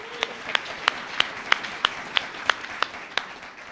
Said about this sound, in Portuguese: Mais uma salva de palmas ao Senhor.